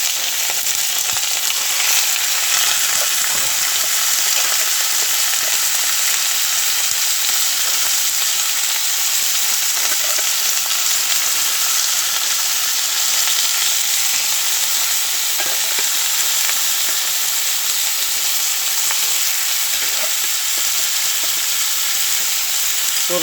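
Chicken fat sizzling in a pan for chicken curry with fresh curry leaves, a loud, continuous hissing fry with faint stirring scrapes throughout, no voices.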